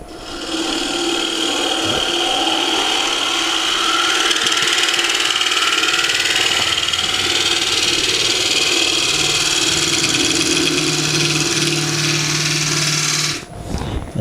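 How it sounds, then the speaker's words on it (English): A wood lathe spins up to speed, giving a loud steady whine and hum that holds almost unchanged for about thirteen seconds before cutting off abruptly near the end. "let the lathe come up to speed"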